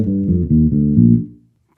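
Bass guitar playing a short practice pattern of a few plucked notes in quick succession, warm and close, the last note fading out into silence.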